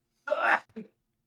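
A single sharp sneeze up close, followed by a short, softer catch of breath, then silence.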